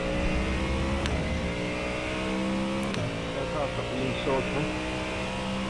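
A Mustang GT3 race car engine in the iRacing video game drones and revs steadily throughout, with shifting pitch and a few sharp clicks, while a person talks over it.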